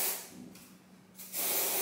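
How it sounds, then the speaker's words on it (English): Dove Dry Spray deodorant from an aerosol can, two close bursts of hissing spray separated by a short pause, the second starting strongly and running to the end. "I've been back using the Dove Dry Spray just because it's been super,"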